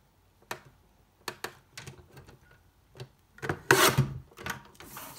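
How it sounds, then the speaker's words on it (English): Leftover cardstock being cut to a narrow strip for a pop-up card, heard as a series of soft, close scraping and tapping strokes with brief quiet gaps. "I'm going to cut this at 6 inches by 1 inch."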